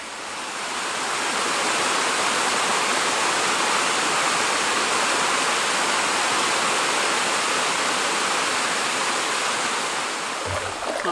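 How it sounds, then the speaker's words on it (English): A small waterfall in the woods gives a steady, dense rush of falling water, an unbroken hiss that stays even throughout with nothing else heard over it. "I can hear and see a little bit of waterfall back there in the woods."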